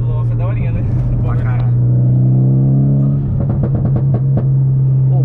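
A Mitsubishi Lancer Evolution X accelerates in São Paulo traffic with a loud, steady engine drone and rumble, while people talk inside the car over it.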